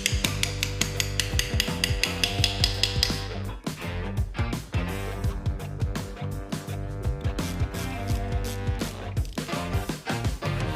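Hammer tapping lightly on an aluminium clutch housing while dismantling an old English engine, a rapid run of sharp metallic knocks close by, steady and fairly loud with brief pauses between bursts.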